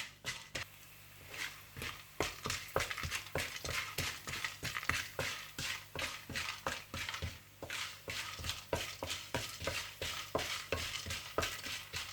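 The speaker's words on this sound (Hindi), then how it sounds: "फिर इसी घी में आप कमरकस भी इसी तरह से फ्राई कर लीजिएगा" Kamarkas fries in ghee in a pan, with a soft background sizzle and repeated regular stirring scrapes and clacks of a spoon, moderately close and without talk.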